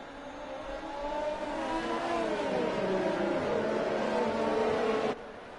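F4 race cars in a racing video game pull away on a track in Italy, a close, continuous engine whine rising in pitch through the gears with several layered engine tones, then cutting off abruptly near the end.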